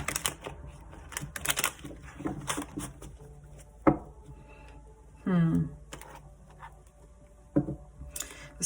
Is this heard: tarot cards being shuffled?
yes